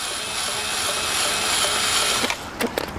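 Stainless steel screws being worked loose from a pond pump's volute cover, giving a steady ratcheting, grinding mechanical noise up close that stops near the end, followed by a few brief clicks.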